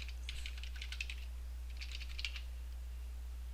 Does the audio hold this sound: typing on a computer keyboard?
yes